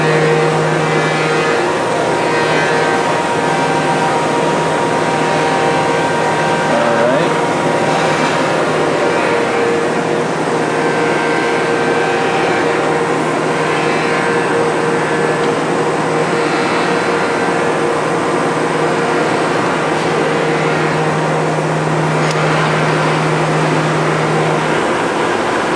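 A KENT KGS-620 surface grinder runs with its wheel spinning and hydraulic table moving, a loud, steady mechanical hum and whine with a faint pitch that rises and falls as the table travels back and forth, sustained throughout.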